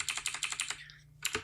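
Fast, even keystrokes on a computer keyboard, a rapid run of close clicks that stops briefly and ends with two more taps, with no talking.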